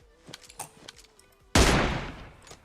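A loud gunshot from the mobile battle-royale game PUBG Mobile bursts out after light game noises and a few clicks, then rings and decays slowly over about a second.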